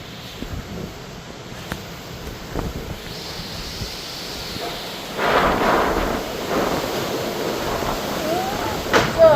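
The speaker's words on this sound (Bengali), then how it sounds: "তো বাইরে তো বৃষ্টি পড়তেছে" Rain falls during a cyclone in a steady rush that swells louder partway through, with gusts of wind and low rumbles at fairly close range, and no clear talking.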